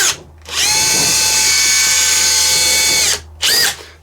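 A Makita 18V compact cordless drill runs close and loud in a long steady whir, stops briefly, then gives one short burst.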